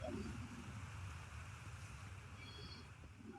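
A waterfall in the video game Outer Wilds gives a steady, broadband rushing roar that stays even and fairly close for the whole stretch, with no talk over it.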